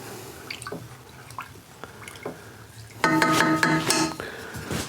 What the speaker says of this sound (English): I'm gonna give it one more stir.